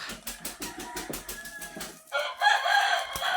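Close, rapid clucking from chickens for about two seconds, then a loud rooster crow bursts in and carries to the end.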